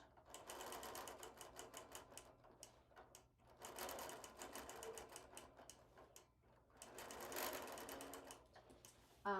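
A sewing machine stitching a quilt in a home studio runs in steady bursts of rapid, close needle clatter, stopping briefly between runs before starting again.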